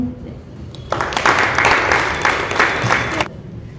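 An audience breaks into loud, sustained clapping for about two seconds after a devotional invocation song at a Jain women's federation study gathering, then stops abruptly.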